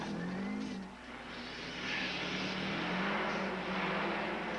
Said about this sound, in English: Perfect 4-wheel drift.